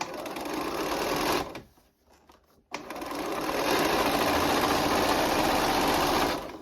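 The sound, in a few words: sewing machine stitching fleece cuff to fabric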